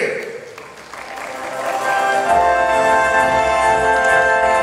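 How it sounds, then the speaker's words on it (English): A large audience at the closing ceremony of the first Asia-Africa Smart City Summit bursts into applause, swelling from scattered claps into a loud, sustained ovation with a sustained tonal sound layered over it. "Can we have a big round of applause, ladies and gentlemen, after 2 days?"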